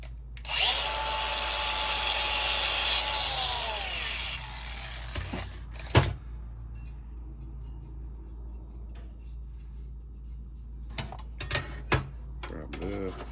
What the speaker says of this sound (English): Let me hit that with the grinder real quick.